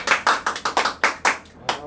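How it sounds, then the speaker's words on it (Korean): A small group claps in unison at a welcome before a blockchain and IPFS talk, eight sharp, evenly spaced bursts over under two seconds, close and fairly loud, with no one speaking. "박수 한번 치고 시작할게요."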